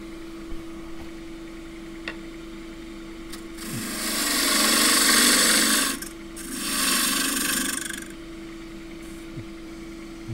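A bowl gouge cuts a redgum box spinning on a wood lathe, with a steady motor hum underneath and two sustained rough, rasping cutting passes of several seconds each, separated by a short pause.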